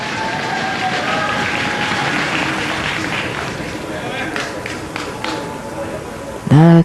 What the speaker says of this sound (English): And the crowd essentially going wild.